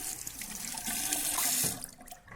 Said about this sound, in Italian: Mi sciacquo il viso e partiamo con la seconda passata.